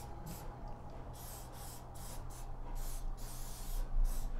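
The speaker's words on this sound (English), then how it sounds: "I'm spraying the slide." Cleaner sprayed onto the slide of a Glock pistol: about a dozen short hissing spray bursts in an irregular rhythm, close and fairly quiet, with a room hum beneath and no talking.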